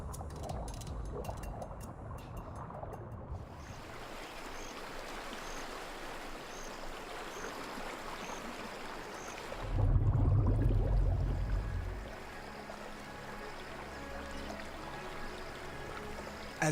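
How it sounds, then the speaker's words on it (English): Fast tidal current rushing through narrow reef passages in a Caribbean lagoon, a steady broad wash of moving water throughout with a louder, deeper surge swelling up briefly partway through, then settling back. "the massive quantity of water is channeled into narrow passages in the reef, and the current flows fast and powerful"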